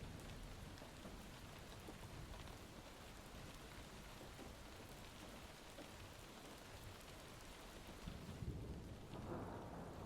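Steady heavy rain pattering on a surface throughout a night rainstorm, with low rolling thunder rumbling underneath and a brief swell of louder rain near the end, no voices.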